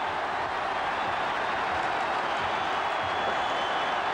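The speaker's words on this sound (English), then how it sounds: "the crowd erupts around behind Shilton's goal as at last the great man is beaten" Dense roar of a football stadium crowd erupting after an equalising goal past goalkeeper Peter Shilton, a loud continuous wash of cheering and applause with no break.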